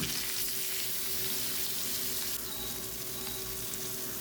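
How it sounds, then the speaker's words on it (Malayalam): Masala-marinated Adavu fish fries in a pan with a steady, close sizzle and crackle of oil that runs unbroken for the whole stretch, with no voices. "മീൻ ആ മസാല പുരട്ടി വെച്ചത് കുറച്ച് നല്ല സമയം ഇരുന്നിട്ട് തന്നെയാണ് വറക്കുന്നത്"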